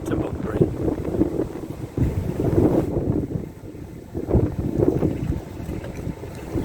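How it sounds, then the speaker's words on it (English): Strong wind gusting across a canal boat on the waterway near Bunbury staircase locks, a steady low rumble of buffeting that swells and dips throughout, with faint engine and water noise underneath. "It is very, very windy,"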